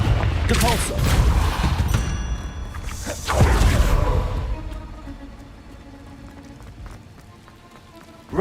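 Confringo fire spells in the Hogwarts Legacy video game, a cluster of crackling fiery blasts and impacts with rushing whooshes that peak twice and then fade into quieter rumbling.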